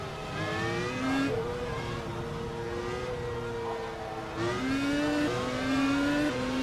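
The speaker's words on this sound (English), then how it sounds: "Here's Chantal Hawke in the other Dork racing car" Racing car engines at a Brazil free practice session whine through rising and falling gear changes, with revs climbing and dropping several times as cars pass, loud and steady over a constant track roar.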